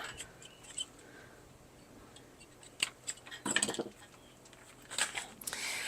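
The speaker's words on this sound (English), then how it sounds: "I need that tubing to be about as tall as the planter. So I'm going to just go ahead and cut that." Black plastic irrigation tubing for a shaded garden planter is being cut, giving a few faint, sharp snips and crunches among quiet handling sounds, sparse and close.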